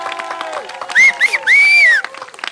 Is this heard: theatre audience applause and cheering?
yes